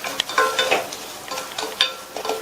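Semolina roasting in ghee on a low flame for payasam, with light scraping stirs and soft crackles in irregular bursts, close by with no talk.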